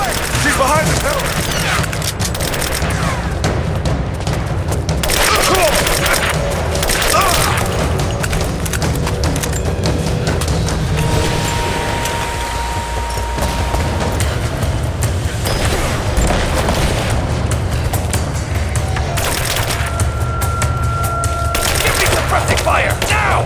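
Sustained battle gunfire in Rise of the Tomb Raider, with repeated shots and booming impacts layered over constant ambient rumble, while game characters shout orders throughout.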